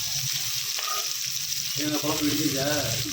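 Onions sizzle steadily in a hot frying pan, a close continuous crackling hiss with faint stirring scrapes partway through and no clear talk.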